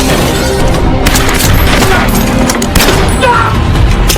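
Loud gunfire from a shootout between a sniper and mafia gunmen in an action film: dense, rapid bursts of shots and booms crowd together without pause, with a few sharper cracks standing out.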